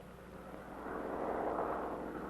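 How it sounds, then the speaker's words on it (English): A propeller aircraft flying low across a line of ground checkpoints for an insect-control spraying test, its droning engine swelling steadily louder as it approaches overhead, with no talking. "The test is made with the plane flying across the center of the line of checkpoints at a predetermined speed."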